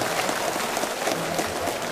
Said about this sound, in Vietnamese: Xin quý vị Bến Thủ vỗ tay.